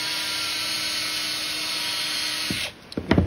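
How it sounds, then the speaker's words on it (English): A power drill whines steadily for a few seconds as it drills a pilot hole through wood, then stops, followed by a few knocks and clatters up close. "I'm gonna drill us a little hole"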